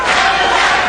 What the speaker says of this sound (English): And here they go again, the chant for Bobby Flay.